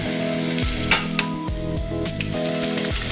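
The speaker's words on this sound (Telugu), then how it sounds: "ఉల్లిపాయలు బ్రౌన్ కలర్లో వచ్చేటట్టు వేపుకోవాలి." Onions frying in a pan for mutton brain fry, a loud close sizzle with rhythmic stirring strokes and a couple of sharp metallic clinks.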